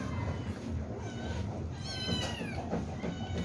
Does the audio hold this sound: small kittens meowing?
yes